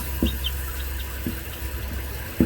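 Water runs steadily into a toilet supply line after the valve is opened, a continuous low rush and hiss with a few faint knocks.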